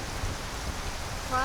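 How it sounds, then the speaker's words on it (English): Heavy rain in the Skyrim video game, a dense steady hiss of falling drops with a voice speaking briefly near the end. "This is your rain. Pretty intense."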